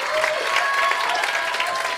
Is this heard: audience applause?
yes